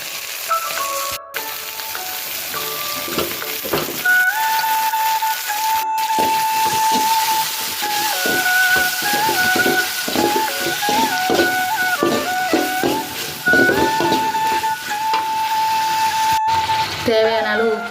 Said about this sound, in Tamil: இந்த ஸ்டேஜில் நம்ம தக்காளி சேர்த்துக்கலாம்.